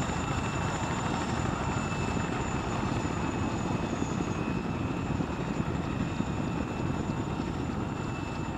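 Helicopter in the military video game Arma 3 during a co-op operation, a loud, steady rotor and engine drone that runs unbroken throughout with no speech over it.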